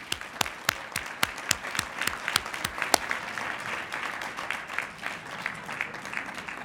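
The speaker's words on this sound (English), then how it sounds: "Please give another round of applause to Novi." A small crowd at an annual council meeting claps at moderate distance, with a few sharp individual claps at the start that blend into steady applause.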